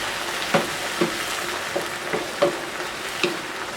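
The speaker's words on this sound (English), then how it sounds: "I'm going to put our tomatoes in there now. And our wine. We'll stir this up." Tomatoes and wine stirred in a hot pan for chicken cacciatore. A steady soft sizzle runs throughout, broken at intervals by several light scraping and knocking sounds from the spoon.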